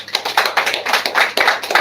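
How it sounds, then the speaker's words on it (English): An audience claps a round of applause at a public gathering, a dense burst of many hands clapping fairly close, with no one speaking. "So please give him a round of applause"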